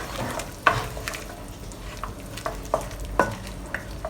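Soy sauce and ginger juice sauce stirred in a bowl for scallops with asparagus, a few soft clinking scrapes and taps of a utensil against the side at irregular intervals, close and fairly quiet.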